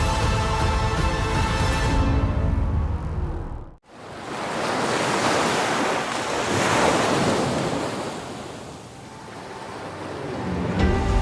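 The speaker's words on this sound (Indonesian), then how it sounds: "Suara deburan ombak disertai bersemilirnya angin yang silih berganti" Ocean surf rolls and crashes at Kecinan Beach, Lombok, with strong wind buffeting the microphone, a continuous roaring wash that briefly drops out before surging again.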